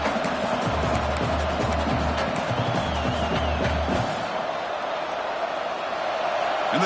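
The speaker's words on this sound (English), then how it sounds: "And the crowd coming to life here, trying to help this defense down in the red zone." Stadium crowd cheering during the final minutes of a college football video game, a steady broad roar that swells and holds throughout, with low rumbling under it for the first four seconds.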